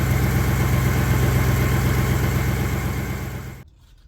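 A 1961 Buick Skylark engine idling smoothly and quietly on old, fuel-fouled spark plugs, a close, even low throb that holds steady for several seconds, then cuts off abruptly into near silence.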